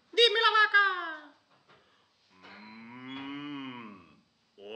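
A person imitates a cow's moo in a drawn-out, nasal lowing voice, two long calls separated by a pause, close and clear with nothing else behind them.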